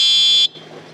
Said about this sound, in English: right here is our buzzer, which I'll give you a sample of, is super loud.